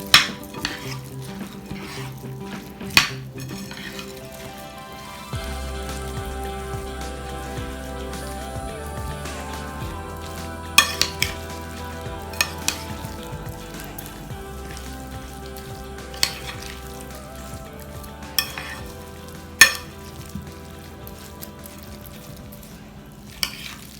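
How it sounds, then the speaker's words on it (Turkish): Ingredients with tomatoes and olive oil are stirred in a pan for stuffed peppers, with a soft low sizzle and intermittent scraping and clinks from the utensil against the pan over a long stretch. Nobody speaks. "Zeytinyağımızı ekliyoruz. İyicene karıştırıyoruz malzememizi arkadaşlar"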